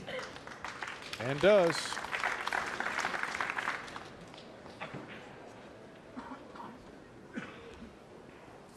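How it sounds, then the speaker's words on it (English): Spectators at a 2006 world championship 9-ball pool match give a short, polite round of applause that rises quickly and fades after a few seconds, with a commentator's voice briefly heard over it. "the crowd gives a nice, polite round of applause"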